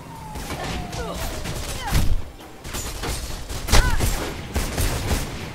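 Gunfire in the video game Mirror's Edge, with a few loud shot bursts standing out from a busy mix of action sounds and faint whistling tones.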